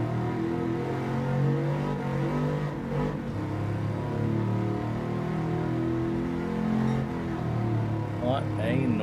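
A truck engine in the racing game Forza Horizon 5 holds a steady, loud droning rev throughout, with a voice talking over it.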